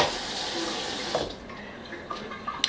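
Tap water runs steadily into a kitchen sink where asparagus is rinsing in a small bath, a continuous splashy hiss that eases slightly partway through, with a few light clinks near the end.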